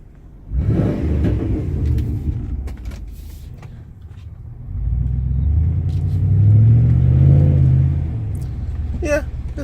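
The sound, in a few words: 1997 Chevrolet Silverado with Dynomax muffler driving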